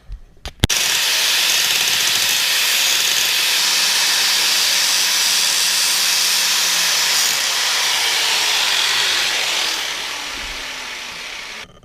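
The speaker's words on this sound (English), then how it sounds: "So now I'm actually gonna take a grinding disc and hit these old welds and take them off." An angle grinder fitted with a grinding disc grinds old welds off a dirt bike frame in one long, loud, steady hiss-like scream after a brief start, tailing off at the end.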